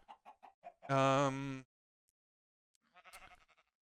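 Minecraft chickens from the SkyFactory 3 modpack cluck in a game setting: a quick run of short clucks, then a longer squawk, a pause, and a softer cluster of clucks near the end.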